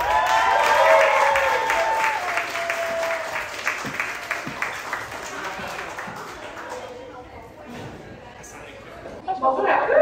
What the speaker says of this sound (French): Je vous demanderai d'accueillir chaleureusement Ariane avec des cris, des applaudissements, toute l'équipe.